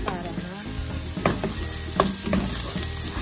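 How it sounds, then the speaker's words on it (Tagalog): Garlic fries in about two tablespoons of cooking oil for pork paksiw, a loud close sizzle with stirring scrapes and clinks over a steady crackle. "Lagay tayo ng 2 tablespoons of cooking oil. Isahan natin ang bawang."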